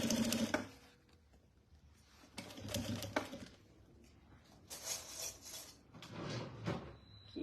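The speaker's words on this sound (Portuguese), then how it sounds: "E vou fazer uma costura aqui com um pezinho de máquina." Sewing machine with a presser foot stitching a seam on fabric for a table basket, running in short bursts of whirring stitches separated by quiet pauses.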